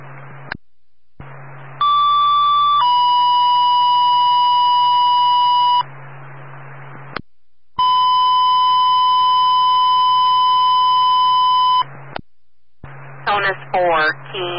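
Fire dispatch alert tones play over a radio for a second-alarm structure fire in Brattleboro, Vermont: two sets of long steady paired tones, loud and clear, separated by brief pauses and followed by a dispatcher's voice.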